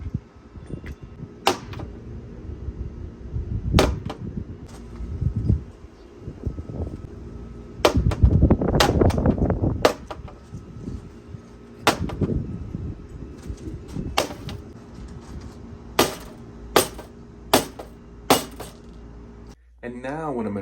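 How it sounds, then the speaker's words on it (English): An axe strikes a handmade Lord of the Rings costume shield to give it battle damage. Sharp, irregular blows ring with metallic clinks, alternating with rustling handling noise and a voice at times. "I'm just going to take my axe and just kind of give it some battle damage."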